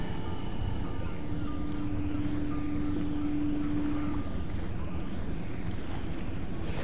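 Steady aircraft engine drone inside XCOM: Enemy Unknown, a continuous broad hum with a sustained tone running through the middle, loud and even throughout with no talking.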